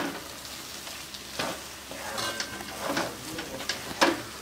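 Dry spinach and gram flour sabzi is stirred in a pan over a soft cooking sizzle, with scattered scrapes and taps from the spoon, close and unaccompanied by speech.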